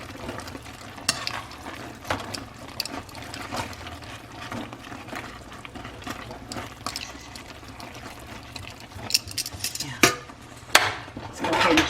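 Noodles are stirred in a pot with teriyaki marinade. A continuous wet, sloshing churn runs under scattered utensil scrapes and clinks against the pot, steady and close, building slightly louder near the end.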